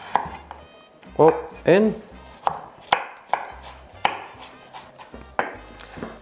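A sharp knife slices food into thin julienne strips on a cutting board, with a steady series of crisp, close chops in an even rhythm and a couple of heavier strikes. A voice speaks briefly.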